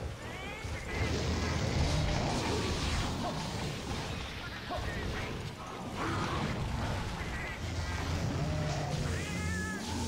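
A cat in Monster Hunter Freedom Unite meows and yowls repeatedly during a Red Khezu hunt, sharp cries cutting through a busy mix of clashing impacts and game effects.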